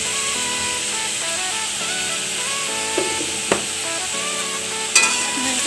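Bottle gourd sizzles and fries in a pan with salt for a white Bengali ghonto, stirred steadily over a constant hiss with a few sharp utensil knocks near the end and a tonal music bed underneath.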